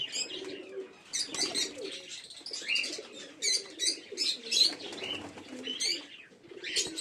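Domestic pigeons of mixed breeds, including Madras, Giribaz and Kakji, coo in low rolling calls around a home loft in the rain, with sharper chirps and tweets overlapping in an unbroken, close chorus.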